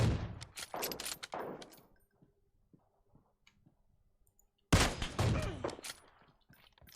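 Bursts of rapid gunfire from the video game PUBG Mobile crackle loudly at the start and again after a quiet pause, each volley a dense run of sharp shots.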